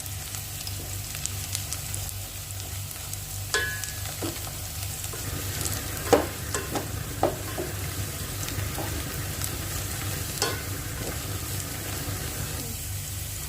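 Onions sautéing until golden brown for chicken pulao, a steady low sizzle with a low hum beneath and intermittent stirring scrapes and clinks of a spoon, close and without talk.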